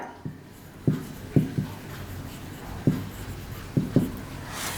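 A pen writes by hand on paper during an accounting exercise, giving soft, close scratches with several distinct strokes spaced irregularly in a quiet room, with no talking.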